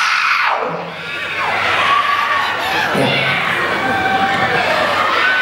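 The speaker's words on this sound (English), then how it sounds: "we're gonna do a rock and roll scream" A theatre audience at the Monster Rock show in Universal Studios Singapore screams and cheers together, loud and sustained, with shrill voices rising over the roar.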